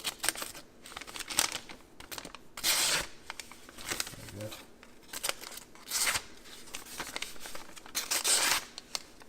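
Paper sheet sliced with a knife freshly sharpened on a Lansky Turn Box sharpener, giving several brief crisp cutting and tearing rasps in irregular bursts, close and moderately loud, with faint handling noise between strokes.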